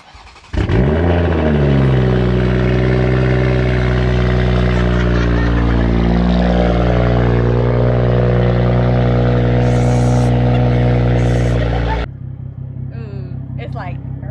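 A Toyota Supra engine with a Tomei single-exit exhaust starts and idles at low RPM, a loud, deep, steady rumble with a slight rise and fall before cutting off; voices talk over it.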